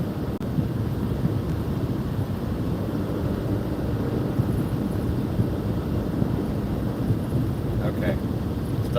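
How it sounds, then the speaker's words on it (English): A car engine drones steadily while the vehicle climbs a hill on a highway, with constant low road and wind rumble throughout and no clear rev changes standing out. "Stop revving in the engine."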